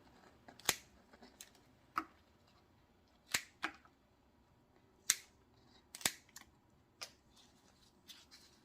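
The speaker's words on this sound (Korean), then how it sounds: "이렇게 상한 잎은 잘라줍니다" Scissors snip off damaged geranium leaves while a potted plant is being tidied, giving about a dozen sharp, close, isolated clicks at an irregular pace with no talking.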